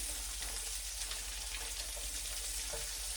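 Tofu frying with zucchini in a hot pan, a steady close sizzle and crackle throughout with a faint disturbance as the pieces are flipped, no voices.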